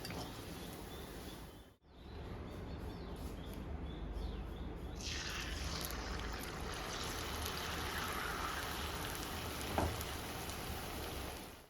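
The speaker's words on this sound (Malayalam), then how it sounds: "ബാക്കിയിരിക്കുന്ന ബ്രെഡും നമുക്കിതുപോലെ ഒന്ന് പൊരിച്ചെടുക്കാം" Leftover bread frying in hot oil, a steady hiss and bubbling that swells after a short dropout and carries on evenly, fairly close.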